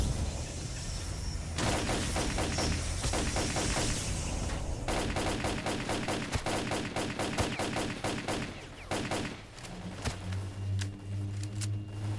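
Dense gunfire from both sides in the S.T.A.L.K.E.R.: Clear Sky game finale, loud, rapid automatic bursts and single shots crowding together almost without a break, easing off slightly near the end over a low rumble.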